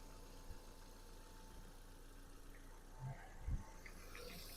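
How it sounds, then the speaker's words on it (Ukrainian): A 2009 Volkswagen Caddy Life with a 1.6 MPI petrol engine idles quietly with a low, steady hum, joined by a few soft knocks and thumps near the end. "Мотор працює тихо тихорібно"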